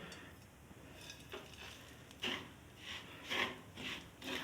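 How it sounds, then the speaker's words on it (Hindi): Semolina roasting in ordinary ghee for Sindhi suji halwa, with soft sizzling and repeated scraping stirs of a spoon in the pan at close range, without any talk. "और देखिए बस सूजी भून रही है।"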